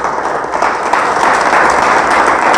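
Church congregation applauding together in a sustained, dense wash of clapping that holds steady and fills the room, with no voices standing out above it.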